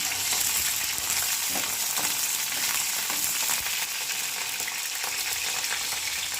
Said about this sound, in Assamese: এতিয়া মই তেল গৰম কৰি তেলত দি দিছোঁ পিঁয়াজ,